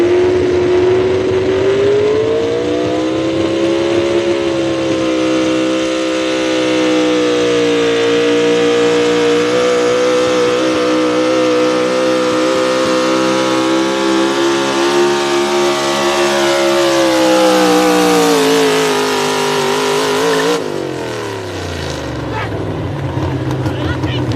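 A Chevrolet race car roars loudly around the track in a race at Millers Tavern, Virginia, its engine note rising and falling through the laps before dropping off sharply near the end, with an announcer talking over it.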